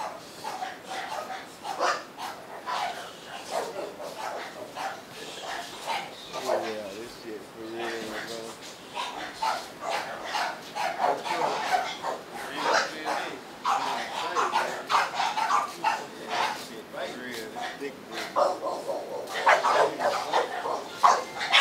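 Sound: dogs barking and whimpering at a dog kennel facility

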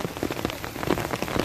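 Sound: rain falling

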